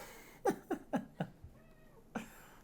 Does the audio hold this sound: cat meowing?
yes